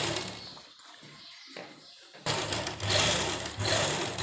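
A sewing machine stitching a kurta sleeve starts after a quiet stretch of soft handling noises, then runs in a steady, close, rapid whir to the end.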